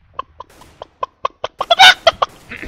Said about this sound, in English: Hello, chicken.